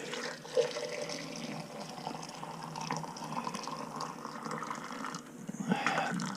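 Quiet, steady pour of Brita filtered water into a container, a soft continuous trickle and splash lasting several seconds with no talking.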